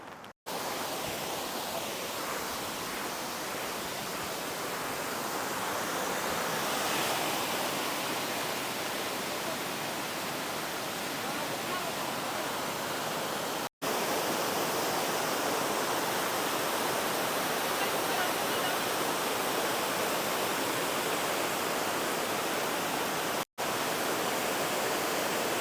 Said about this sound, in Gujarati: આ સામે ધોધનું પાણી આવે છે.